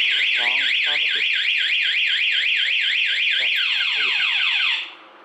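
Honda MSX motorcycle anti-theft alarm blaring close and loud, a rapidly rising and falling siren sweep that repeats steadily before shifting pattern and cutting off abruptly near the end.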